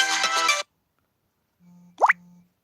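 A mobile phone gives a short electronic alert, a brief tone followed by a quick rising chirp, clear and close after a moment of silence, from incoming calls.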